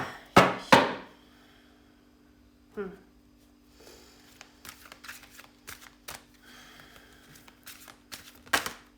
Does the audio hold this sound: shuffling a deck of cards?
yes